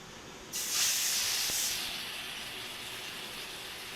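An egg-based tiffin snack dropped into a frying pan, a sudden loud hissing sizzle that swells then settles into a steady softer frying hiss, close by with no talking.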